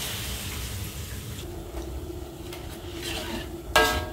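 Water from rinsing a stone mortar is poured into a wok of cooked spice paste for Indonesian momok tempe, giving a steady wet sizzle with stirring and a sharp burst of hiss near the end, with no talking.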